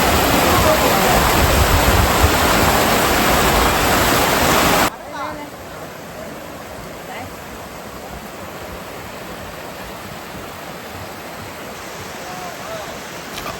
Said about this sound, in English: this waterfall is coming out of the lake